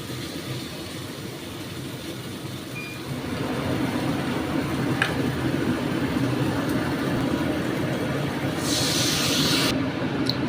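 Water poured into hot fish gravy for a Bengali bata fish dish cooked with kalo jeere, starting a loud, steady hiss and sizzle on high flame that swells after a few seconds and holds, with a brief brighter burst near the end.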